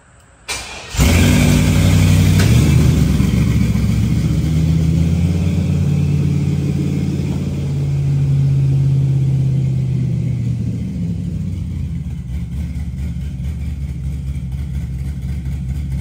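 A car engine fitted with cheap aftermarket Amazon mufflers starts with a sharp catch, then settles into a loud, deep, droning rumble that rises and swells with revs before easing back toward a lower idle.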